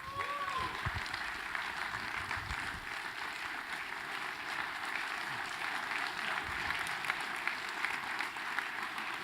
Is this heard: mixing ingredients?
no